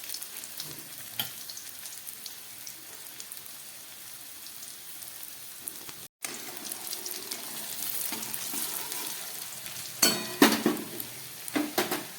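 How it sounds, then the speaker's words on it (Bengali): Potato pieces frying in a pan with bay leaf and cumin for a vegetarian banana-flower ghonto, a soft, steady rain-like sizzle, quiet at first and growing fuller, with a few louder stirring clatters toward the end. "আলুটাকে আমি একটু ভেজে নিচ্ছি।"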